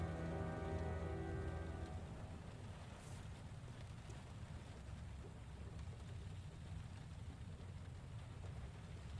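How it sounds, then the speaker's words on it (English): Rain in the video game Heavy Rain pours as a dense, even hiss over a low rumble, steady throughout after a brief tonal hum fades at the start. "Okay, it's raining."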